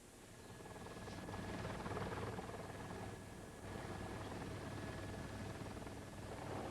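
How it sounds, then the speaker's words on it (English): A KCBS TV news helicopter hovers above a house, its steady rotor and engine drone filling the scene as a loud, continuous wash of broadband noise with no speech over it. "Bob Turr is in the KCBS TV helicopter above this scene"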